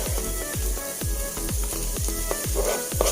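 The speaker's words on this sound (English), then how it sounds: "So we allow the onions to cook for a few minutes. Let's now add ginger and garlic." Ginger and garlic sizzle loudly with frying onions while cooking a mutton curry, a steady hiss broken by regular scraping stir strokes about every half second, with no voices.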